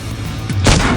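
A T30 tank cannon fires in a tank video game, one heavy booming shot that bursts in over a steady low engine drone, loud and close with a brief rumbling tail.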